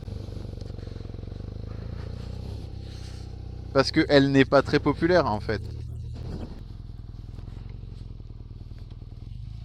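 A BMW R nineT Urban G/S motorcycle rides with a steady low engine rumble and wind noise running throughout, while someone talks over it for several seconds.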